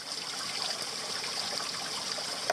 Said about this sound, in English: The next step is to fill the bottle back up